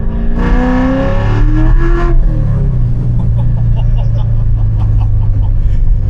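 A supercharged C7 Corvette accelerating hard in second gear, the engine note rising loudly up close before easing off into a steady lower drone.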